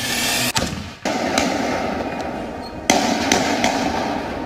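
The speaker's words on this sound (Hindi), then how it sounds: "बीच सड़क पर फायरिंग की आवाज आ रही है" Rapid gunfire on a street in Brussels: a few sharp, loud cracks stand out against a steady wash of background noise, with gaps between them. No one speaks.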